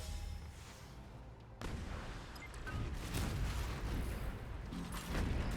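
Video game combat from Anno 2205 brings rumbling artillery booms and bursts of gunfire, with a sharp impact early on and then continuous heavy low-end battle noise.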